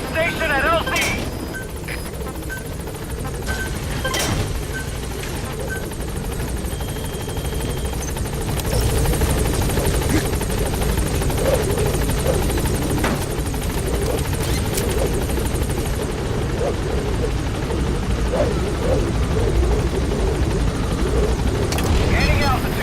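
Helicopter rotor drone from Metal Gear Solid V: The Phantom Pain, a steady loud beating wash with low thumps throughout, while radio-style voices speak over it.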